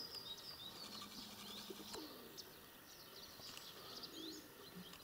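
Pigeons coo softly in the morning in a rural village, with low repeated coos mixed with a few chirps and a brief wing flap, heard quietly from a short distance amid faint outdoor ambience.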